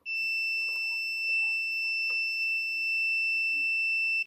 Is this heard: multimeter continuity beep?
yes